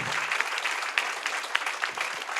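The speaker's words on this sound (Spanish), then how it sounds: "yo les pido un aplauso grande como agradecimiento a que nos aguanten" A crowd at an educational technology panel discussion applauds, a dense, steady wash of many hands clapping together, fairly faint and somewhat distant, with no speech over it.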